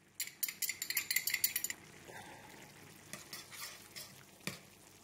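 A beef and veal stock sauce with tomato paste for lasagna is stirred in a pan, a burst of rapid scraping strokes followed by a quiet simmering sizzle and a couple of soft knocks.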